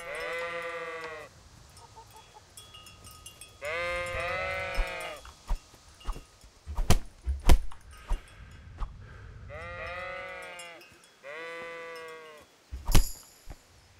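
Sheep in a medieval open-world video game give several loud, wavering bleats in separate bursts, with sharp thumps and impacts from punches landing in between.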